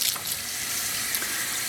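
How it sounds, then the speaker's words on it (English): Running tap water pours steadily into a sink while freshly dyed wool roving is rinsed, the water aimed into the fiber rather than over it; a continuous close hiss and splash with no talking. "I'm trying to have the running water go in, not on top of the fiber"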